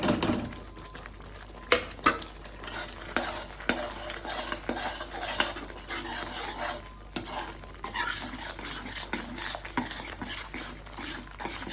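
Ground coriander and cumin are stirred and fried in oil in a pan for a Bengali spicy shankar (stingray) fish curry. Steady sizzling runs beneath repeated scraping and clinking of a spoon against the pan, with sharper knocks scattered throughout.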